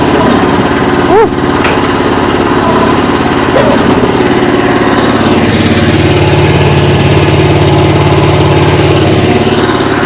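A Chinese mini excavator's engine runs at low idle after its hydraulic fluid has been changed, a steady, loud mechanical drone that fills the whole stretch with only brief faint knocks near the start.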